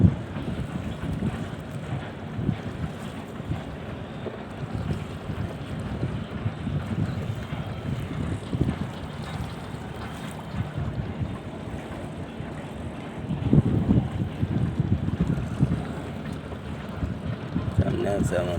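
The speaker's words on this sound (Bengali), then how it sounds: "বাংলাদেশের প্রধান নৌবন্দর সদরঘাট লঞ্চ টার্মিনাল" Launches and boats at the Sadarghat river terminal in Dhaka rumble under gusting wind, a dense, steady low roar with buffeting microphone noise and scattered human activity throughout.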